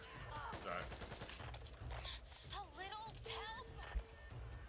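Gunfire in the zombie shooter Back 4 Blood, loud bursts and a sharp crack under a busy game mix while players talk over it.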